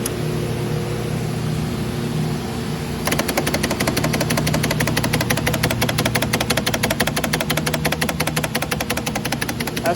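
A refrigerated air dryer's compressor idles with a low hum, then after about three seconds breaks into loud, rapid, machine-gun-like rattling as it shakes violently, continuing steadily to the end.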